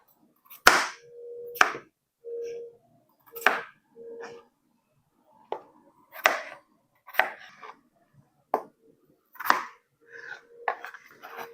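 Knife chopping potatoes into pieces on a cutting board, a dozen or so sharp, clear thuds at an irregular, unhurried pace, close and distinct with quiet gaps between cuts.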